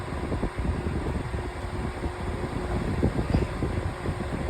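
A pedestal fan with worn, noisy bearings runs steadily nearby, giving a continuous broadband whoosh of airflow with a low rumbling, slightly uneven mechanical grind beneath it.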